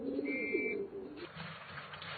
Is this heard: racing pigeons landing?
yes